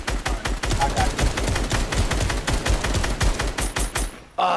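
Video game gunfire rattles in rapid automatic bursts, dense and loud, with a steady stream of sharp shots that cuts off abruptly near the end.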